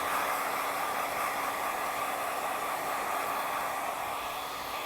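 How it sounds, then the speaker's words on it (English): A hair dryer blowing loose hair off after a haircut on straight hair, a loud, steady, close-up rush of air without change throughout. "now I'm just going to blow the hair out a little bit more"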